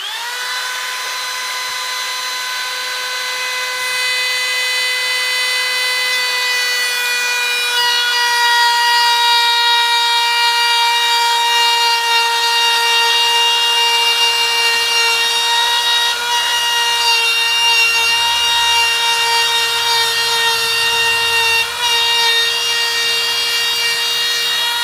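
Power saw cutting a shallow dado about 1/8 inch deep into pre-finished cabinet panel material, a loud steady whining cut with strong sustained harmonics that holds evenly for about twenty-five seconds without talk.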